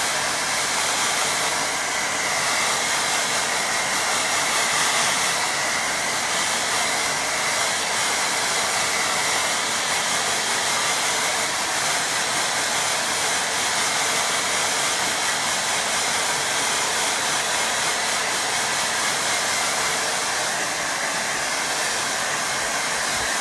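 Hair dryer blowing steadily on a watercolour painting, a loud, continuous close-up whoosh of air and motor noise that holds unchanged from start to finish with no talk.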